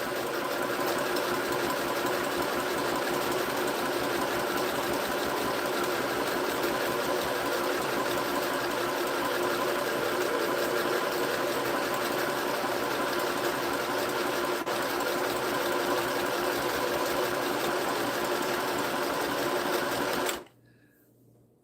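A sewing machine stitching continuously at a steady, fast, humming rhythm for about twenty seconds, close and even, stopping abruptly near the end.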